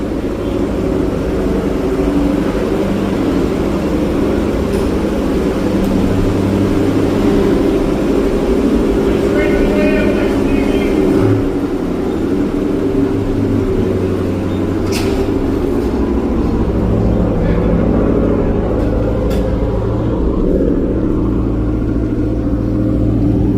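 A 1978 Datsun B210 engine, freshly tuned up, runs steadily while the car is driven, a continuous low rumble and drone that stays loud and close throughout with little variation.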